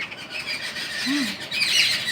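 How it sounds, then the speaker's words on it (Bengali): Birds call in the morning: a single rising and falling squawk rings out near the middle, over faint background noise, followed by thinner high chirps. "পাখিদের সঙ্গে পাখিদের আওয়াজ শুনতেই পাচ্ছি"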